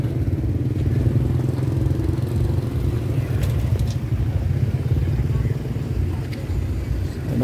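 Motorbike taxis around the Vientiane night market by the Mekong, a steady low engine rumble and clatter of passing traffic, with faint crowd murmur mixed in.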